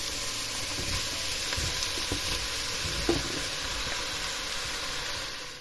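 Cabbage goes into a frying pan with onions, apple and rendered fat, setting off a steady loud sizzle with a few soft stirring knocks, close and continuous with no speech.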